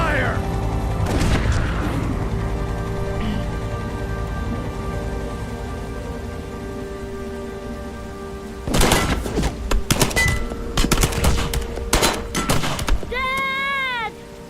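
A cluster of heavy gunshots from a video game breaks out after a long stretch of rumbling ambience, loud irregular blasts in quick succession, with a brief whining tone near the end.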